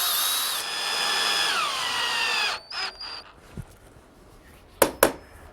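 A power drill whirs steadily for a few seconds as it drives in fasteners to secure a hinge jig to an entrance door jamb, its pitch dropping as it slows and stops, followed by a few knocks and clicks.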